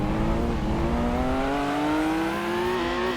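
An older Nissan Skyline's engine howls on its final lap in a racing game, a loud, sustained drone rising gradually through the revs with a brief dip near the end, alone with no voices.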